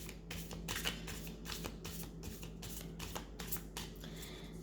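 Tarot cards shuffled by hand in a steady run of soft riffling bursts, close and fairly quiet over a faint constant hum, with no talking.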